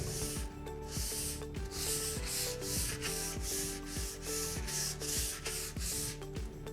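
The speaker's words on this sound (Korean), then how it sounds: "저희가 준비해드린 사포로 넓은 면에 나무의 결을 따라 샌딩을 해주셔야 합니다" Sandpaper rubbing back and forth along the grain of a wooden cutting board in a steady, brisk rhythm of about a dozen rasping strokes, with faint music underneath.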